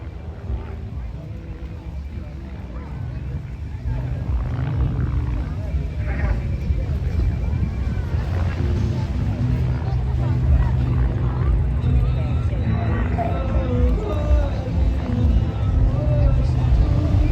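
Firebirds aerobatic display aircraft performing a final manoeuvre at the English Riviera Airshow, a broad engine roar that swells and stays loud throughout, with crowd noise and a commentator talking over it.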